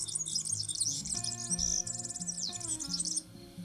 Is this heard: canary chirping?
yes